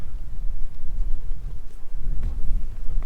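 Steady gusting wind at a campsite in Mendocino National Forest buffets the microphone with low rumbling roar, continuous throughout, no voices.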